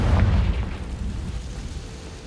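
Confringo fire spell blast in Hogwarts Legacy, a single loud booming burst up front that rumbles and decays over about two seconds, with no talk.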